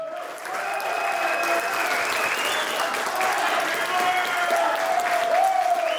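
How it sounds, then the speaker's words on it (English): A crowd gives golfer Nick Taylor a standing ovation at an Audi quattro Cup event, with warm, continuous applause and some cheering from the crowd. "A standing ovation."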